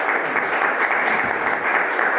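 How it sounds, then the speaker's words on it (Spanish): A book-launch audience applauding speaker Carlos Arreola López, dense and sustained clapping from many hands that stays loud and even across the whole stretch. "brindémosle un fuerte y caluroso aplauso a Carlos Arreola"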